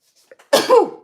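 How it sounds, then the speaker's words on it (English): A single close, sharp sneeze bursts out after a couple of small intakes of breath, then trails off quickly. "now I'm going to sneeze"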